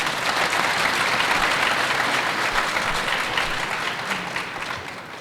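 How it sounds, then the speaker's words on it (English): A large audience applauds steadily at a celebration honouring Professor Thomas C. McCaskie on the history of Ashanti, a dense, even roar of clapping that holds for several seconds and tapers slightly near the end, with no voices. "Please, a round of applause."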